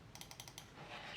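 Rapid series of about five crisp, light clicks close up, evenly spaced, then quiet.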